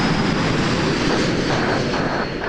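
Airliner engines roar steadily at Toronto Pearson Airport at night, a loud continuous broadband rumble with a faint high whine, heard from nearby and alone without talk.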